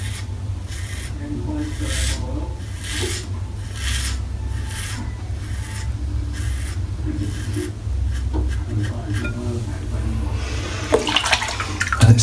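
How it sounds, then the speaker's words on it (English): Gillette Rocket HD500 safety razor dragging against the grain with a steady run of close, raspy scraping strokes, followed near the end by a brief splash of water. "So here we go with the Gillette Rocket HD500 against the grain."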